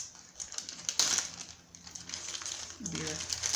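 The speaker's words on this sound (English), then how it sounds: "I'm going to put" A wet paper towel is pushed into a plastic sandwich bag, making soft, close crinkling and rustling of plastic, with a voice talking briefly over it.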